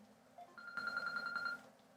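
A phone rings once, a steady electronic tone lasting under a second in a quiet room.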